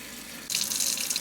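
Water pouring from a tap or hose into the pot of a potted fig tree to soak it, a close, steady gush starting abruptly after a short quiet lead-in.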